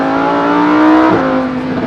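A Lamborghini Huracan Evo RWD's engine roars loudly and close, holding a high, sustained rev with a slight pitch swell and no voices over it.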